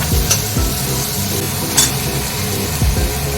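Tomatoes, ginger, green chillies and turmeric frying in a pan, loud continuous sizzling with repeated spoon scrapes and clinks against the pan at irregular intervals.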